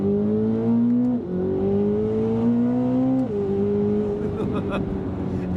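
A 2026 Chevy Corvette ZR1 accelerates hard as quick paddle shifts step through its 8-speed gearbox, the engine note climbing steadily and dropping sharply at each shift, heard from inside the cabin.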